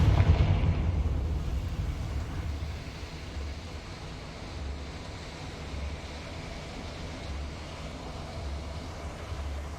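A Confringo blast spell erupts in the Hogwarts Legacy game, opening with a loud, low explosive boom that fades into a steady rumbling tail with no talk.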